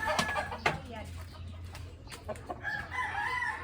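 Rhode Island chickens nearby, with clucking and a rooster's crow among the flock, while someone talks over the birds.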